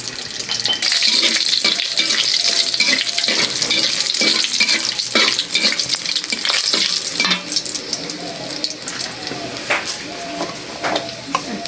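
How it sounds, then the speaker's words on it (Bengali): Chilies frying in soybean oil with tukani greens in a pan, a loud close sizzle with repeated spatula strokes and scraping that ease off slightly near the end. "মরিচ ভাজতে হবে ঠিক না"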